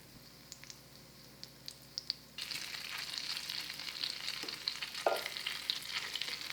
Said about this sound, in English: I'm of course adding the Camembert. And I will fry it now from both sides.